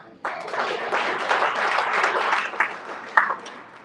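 Audience applause at a sports awards ceremony, a burst of clapping that starts abruptly and holds steady for several seconds with a few sharper claps near the end.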